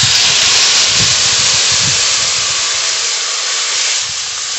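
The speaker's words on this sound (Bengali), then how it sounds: "এবার জল দিয়ে দেব।" Water poured into a hot pan of fried potatoes and bitter gourd bursts into a loud, sustained steamy hiss that fades slightly toward the end.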